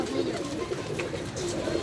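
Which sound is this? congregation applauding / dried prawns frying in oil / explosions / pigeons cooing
pigeons cooing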